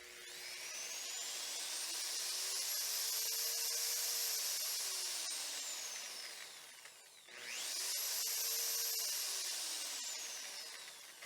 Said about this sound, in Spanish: Vamos a probar ahora con un taladro.